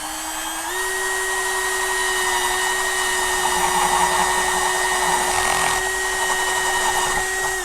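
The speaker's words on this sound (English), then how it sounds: "Just let the drill and the bit do all the work." Electric drill fitted with a 1/2 inch bit boring into a plastic bucket, a steady high motor whine that rises slightly in pitch as it spins up and holds, loud and close with no talk.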